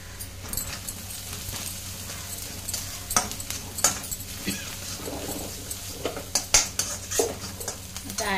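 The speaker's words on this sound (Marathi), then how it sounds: "कांदा छान गुलाबी रंगावर परतून घ्यायचा आपल्याला" Onion stirred and sautéing in a pan for a red amaranth (lal math) bhaji, with scraping and clinking of a spoon against the pan at irregular intervals over a steady low sizzle.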